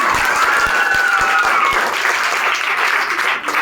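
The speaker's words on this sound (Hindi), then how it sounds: "एकदम गर्दा बजाने ताली मारिए।" An audience at a school board-exam felicitation event claps loudly and steadily for a few seconds, a dense wash of many hands close by, with a voice briefly heard at the start.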